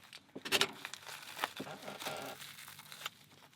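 Crinkly packaging from a taped postal parcel is unwrapped in a quiet room, with intermittent crumpling and tearing rustles up close, a sharper rip early on, and a person talking softly underneath.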